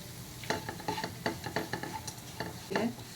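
A spoon scrapes and stirs roasting coconut and jaggery with dry fruits, cardamom powder and poppy seeds in a pan for modak filling, making a run of soft, close scraping strokes with a faint sizzle underneath.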